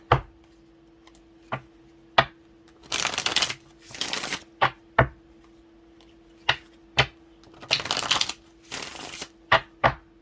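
Short bursts of tarot cards being shuffled, several riffles separated by sharp taps and clacks of the deck, close up with no talking.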